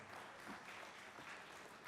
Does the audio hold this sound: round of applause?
yes